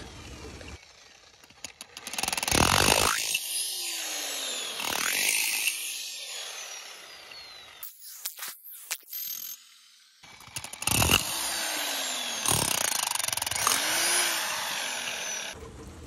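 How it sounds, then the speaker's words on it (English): Loud bursts of a hammer drill pounding against the metal legs of a pool slide to collapse them, stopping and starting in several long runs with short pauses and clanks between them. "we can just kind of collapse them using the hammer drill"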